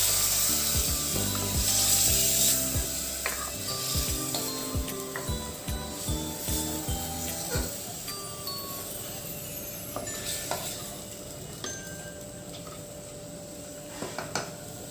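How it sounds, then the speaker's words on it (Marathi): Pieces of chicken are stirred in oil inside a pressure cooker, with a spatula repeatedly scraping and knocking against the metal pot, the clatter busier at first and then easing into lighter scrapes. "चिकन आपल्याला व्यवस्थित यामध्ये तेलामध्ये परतून घ्यायचं आहे"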